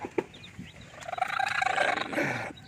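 Native hens clucking, a short close burst of throaty, rapid bird calls that swell and fade over a few seconds.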